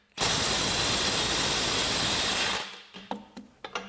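A Milwaukee M12 Stubby impact wrench runs close and loud as a dense, continuous hammering roar for about two and a half seconds. It then cuts off, leaving a few separate sharp knocks.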